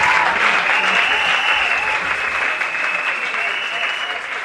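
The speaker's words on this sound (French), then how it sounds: "Quelqu'un peut acclamer très fort pour le Seigneur" A large audience at a Christian concert applauds and cheers loudly and steadily. The dense clapping roar holds throughout and eases slightly near the end.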